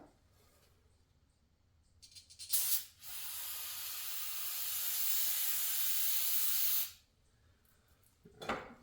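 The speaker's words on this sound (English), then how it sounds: "Clean some of the stuff that just went everywhere. Probably with some spray." Spray cleaner is sprayed onto 2008 Audi A4 engine parts during timing belt work. A short puff comes first, then one long, steady, close hiss lasting about four seconds, and a brief final spurt follows.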